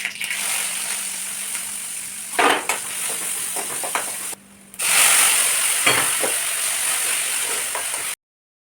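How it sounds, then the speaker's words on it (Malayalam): Crushed shallots, garlic and dried red chillies fry in hot oil with a loud, continuous sizzle, stirred now and then, with a brief quieter gap partway through before the crackling returns and then stops abruptly. "ഇതിലേക്ക് ഞാൻ ചെറുള്ളിയും വെളുത്തുള്ളിയും വറ്റൽമുളകും കൂടെ കുത്തിക്കാച്ചുക എന്ന് പറയില്ലേ"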